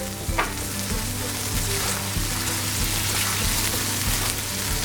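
Egg curry with a whole can added and a splash of water sizzles and fries steadily in a pan, a close, continuous crackling hiss with faint stirring underneath and no talk.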